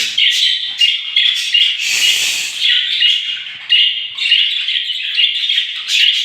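Pet budgerigars in a cage chirp and warble continuously, a dense, bright, close chatter of overlapping calls with no talking.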